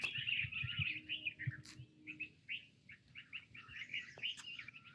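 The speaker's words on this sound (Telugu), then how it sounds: "ఇక్కడ ఎన్ని బర్డ్స్ అరుస్తున్నాయి" Many birds calling beside a rural road on the route from Hampi to Bangalore, with repeated high chirps and tweets overlapping from several directions over a low, quiet outdoor rumble, fairly faint and with no talk.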